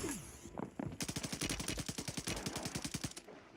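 Rapid automatic gunfire in the video game Warzone, a long steady burst of evenly spaced shots, loud and close, preceded by a few scattered shots and ending abruptly.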